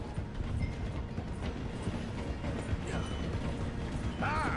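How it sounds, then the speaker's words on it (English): A train in the Red Dead Redemption 2 game rolls along steadily as it slows for a station, a dense continuous rumble with faint clatter, while game voices talk over it. "The train is slowing down to go through the station."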